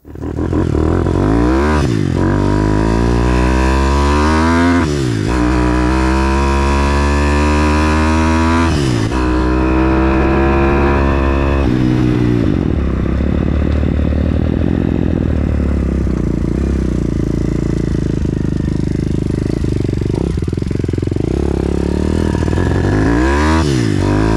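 A 160 4S YX pit bike engine starts and roars up close, revving repeatedly in rising and falling bursts over a steady loud idle, with some mechanical clatter.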